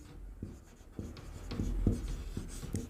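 Pen or chalk writing by hand during a Hindi-language class 10 maths lesson on polynomials, heard as a series of short, close scratching strokes in an uneven rhythm, fairly quiet, with no talking.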